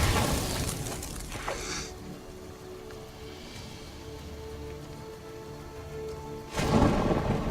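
Lightning Strike spell effect in the card game MTG Arena: a sharp crackling thunder-like burst opens, fades into a low quiet rumble, then another loud crackling strike hits near the end, with no speech.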